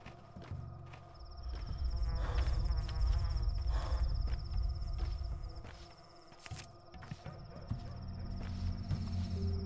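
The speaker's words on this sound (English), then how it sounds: "I remember hearing the fly buzzing sound a lot when I was beginning to play the game" Buzzing of flies in the video game Pathologic 2, a sustained insect drone running through most of the stretch over a low rumbling game ambience, fairly steady and moderately loud.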